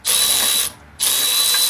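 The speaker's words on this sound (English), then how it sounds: "Ratchet electric." An electric ratchet whirs in two loud, sustained bursts separated by a short pause, working on a lock kit install for an IS200 suspension.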